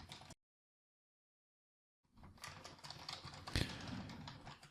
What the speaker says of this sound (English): So we can just start typing some text.